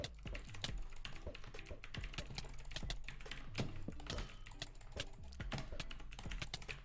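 Rapid, continuous clicking of a new, compact computer keyboard during a Minecraft UHC match, keystrokes dense and fairly close throughout with no talking.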